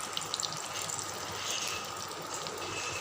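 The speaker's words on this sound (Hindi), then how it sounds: "बबल से आपको पता चल रहा है कि ऑयल गर्म है।" Kofta pieces frying in hot cooking oil make a steady, soft sizzle and bubbling hiss with faint crackles, heard close and continuous without speech.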